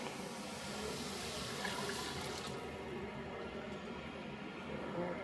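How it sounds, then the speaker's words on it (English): Water pours steadily into a soup pot for Italian wedding soup broth, a continuous close rushing splash that runs without a break and thins slightly toward the end. "Then I'll add water for the broth."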